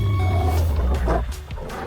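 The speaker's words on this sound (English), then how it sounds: "Soren roars and Senac bolts forward" A dragon's roar from a fantasy audio drama swells over a low, rumbling bed of sound, loud and close, rising into a harsh growl at its peak before settling back.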